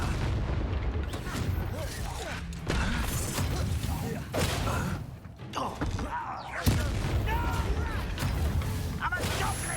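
Fiery Confringo spell explosions in the Hogwarts Legacy video game, heavy booms and bursts of combat noise with short pauses, mixed with brief voices.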